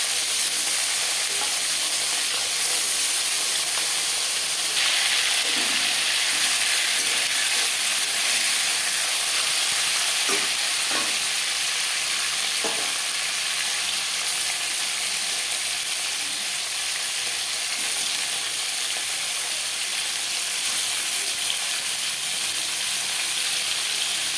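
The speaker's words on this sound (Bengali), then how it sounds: "আর দিয়ে দেবো মাছ খুব বেশি ভাজবো না হালকা করে ভেজে নেবো" Hilsa fish pieces, heads added first, lightly frying in hot oil in a pan for a mustard-paste hilsa curry, giving a steady, close sizzle throughout with scattered pops and crackles and no talking.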